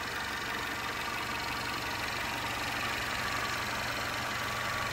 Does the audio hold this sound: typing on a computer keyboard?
no